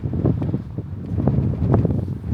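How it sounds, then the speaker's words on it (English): Strong gusts buffet the microphone outdoors on a cattle farm, a low rumbling roar that surges and dips in irregular waves, close and loud, with no talk. "It's very windy."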